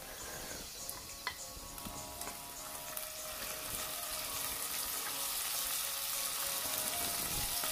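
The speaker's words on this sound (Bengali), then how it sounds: "পেঁয়াজের সাথে সাথে আমি একটা তেজপাতা মাঝখান থেকে ছিঁড়ে এভাবে করে দিয়ে দিলাম। এরপরে একটু ভেজে নেব" Onion and a torn bay leaf fry in oil in a pan, making a close, continuous sizzle that swells slightly louder, with occasional small ticks and no talking.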